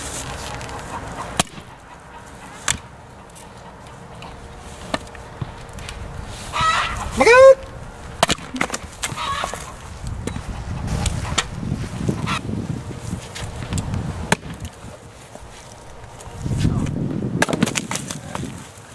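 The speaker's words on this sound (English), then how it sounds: "Chickens." Several chicken calls ring out, a bright squawking burst near the middle, over a busy outdoor background with rustling and low rumbles.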